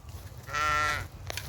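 A Rahmani sheep bleats once on a farm in Kafr El Sheikh, Egypt; the call is a single clear, wavering bleat lasting about half a second, fairly close, with no talking around it.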